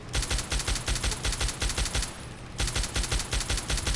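Perforator rifle in Fallout 3 fires in rapid, evenly spaced bursts, loud and close. One steady run of shots breaks off briefly in the middle, then resumes at the same pace.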